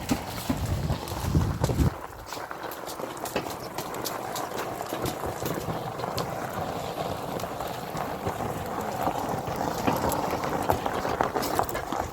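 A mare's hooves clip-clop steadily while she works fertilizing a vegetable garden, a continuous rhythmic clatter with some rattling of gear, and a brief low rumble at the start.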